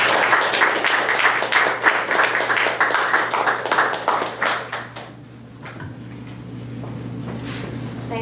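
An audience at a book talk on Kashmir's Necropolis claps to welcome Dr. Amrita Ghosh, with brisk, full applause that thins and fades out after about five seconds, leaving a low room hum.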